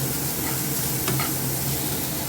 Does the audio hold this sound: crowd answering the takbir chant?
no